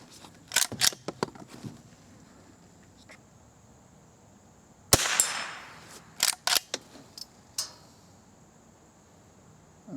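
Sharp rifle reports from a Henry Golden Boy lever-action in .22 rimfire ring out outdoors, a quick cluster of cracks early on and another burst midway, each a loud snap with short decay. Steady insect buzz sits underneath.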